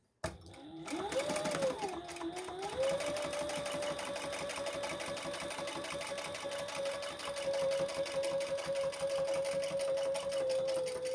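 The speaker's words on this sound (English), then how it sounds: "Fold that over and top stitch on the bottom piece." A sewing machine top-stitches a folded fabric piece for a crossbody bag, a steady rapid motor hum with a rhythmic needle chatter running continuously for about ten seconds.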